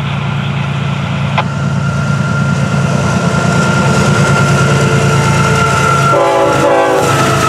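An FEC freight train rumbles past close by at night, steady and loud, with a long horn tone held throughout and a chord of horn blasts near the end.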